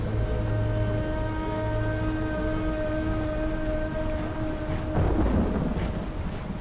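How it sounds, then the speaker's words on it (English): Rain and rumbling thunder in a Medieval II: Total War Broken Crescent mod siege battle, a steady loud downpour with low rumbles and a sustained musical drone, swelling louder near the end. "It is a rainy day"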